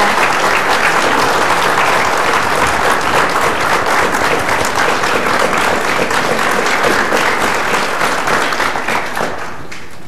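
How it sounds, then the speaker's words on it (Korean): Large audience giving sustained, dense applause to welcome South Korean President Roh Moo-hyun at a fourth-anniversary event, loud and steady for about nine seconds before tapering off at the end. "여러분 큰 박수 주십시오."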